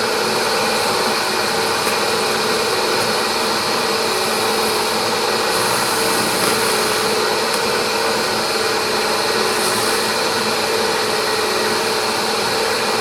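A wood lathe spins steadily while a lidded pot is buffed with wax, giving a loud, continuous whirring drone that barely changes throughout and has no talk over it.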